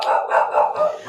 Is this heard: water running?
no